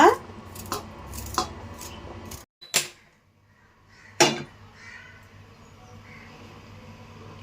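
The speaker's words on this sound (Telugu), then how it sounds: "చూస్తున్నారు కదా నేను కట్ చేస్తున్నాను ఇలా చిన్న ముక్కల కింద కట్ చేసుకోవాలన్నమాట" A knife chops ginger into small pieces on a board, with several sharp, close knocks in an uneven rhythm, a short pause, then one more loud chop before quiet kitchen background.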